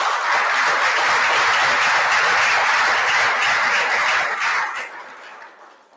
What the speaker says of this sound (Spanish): quiero pedir un fuerte aplauso también a mis colegas que hicieron posible este evento